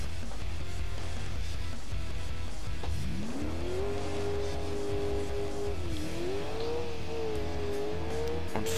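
A car in the racing game Alarm für Cobra 11 Highway Nights pulls away from a wall. Its engine revs up into a loud, rising drone that holds steady, dips, then climbs again, close and without talk.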